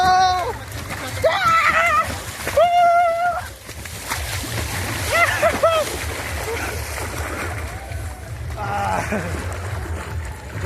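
Sea water at Bakkhali beach washes and splashes in a constant broad rush, while several voices call and shout loudly over the surf.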